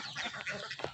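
Ducks at a duck farm in Veliyankode, Ponnani, quack and chatter in a dense, continuous cluster at close range for about a second, with no talk.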